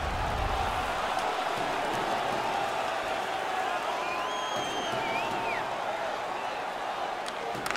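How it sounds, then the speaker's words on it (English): Hockey arena crowd in the NHL 16 game, New Jersey Devils versus Washington Capitals, a steady roaring murmur with cheers and whistles running unbroken, loud and continuous throughout. "The crowd is all over them right now."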